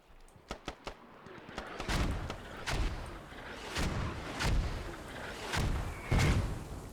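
Mortar shells raining down in a competitive multiplayer shooter match, a series of sharp cracks followed by repeated heavy booming impacts at irregular intervals, with a commentator's voice faintly under the blasts.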